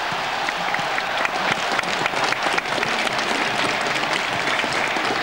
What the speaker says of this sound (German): Erstmals grün-weißer Jubel in der Stadthalle